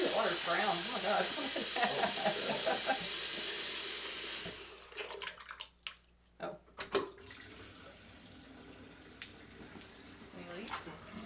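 Water gushes steadily from a newly installed faucet in a freshly tiled basement half bath, a loud rushing hiss that cuts off after a few seconds, followed by quiet voices and small sounds.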